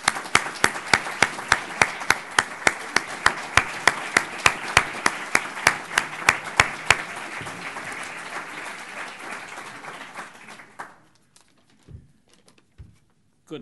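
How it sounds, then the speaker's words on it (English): A crowd applauds a leader and his wife at a leadership lecture, loud dense clapping with a few sharp, rhythmic individual claps on top, thinning and fading out toward the end, followed by faint scattered sounds. "Let's give him a round of applause."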